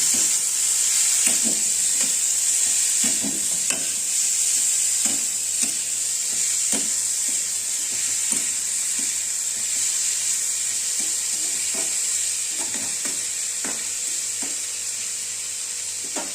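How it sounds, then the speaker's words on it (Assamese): Chopped tomatoes fry with dried fish in a pan, a continuous bright sizzle broken by regular scraping and stirring knocks, close and without talk. "বিলাহীখিনি ভাজি ল'ম তাৰ লগত।"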